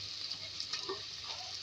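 Cloves and ten to twelve black peppercorns frying in oil for a chicken and potato curry give a steady, soft sizzle with faint stirring scrapes, quiet and continuous throughout.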